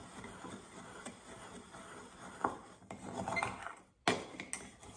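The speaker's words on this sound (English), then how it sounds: "get a little butter knife and I just give it a little spin inside my jar just to mix all this up" A butter knife spun inside a glass jar to mix onion soup seasoning, giving scattered light clinks and scraping taps of metal on glass, with one sharper knock near the end.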